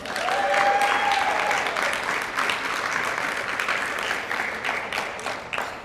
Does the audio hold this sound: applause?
yes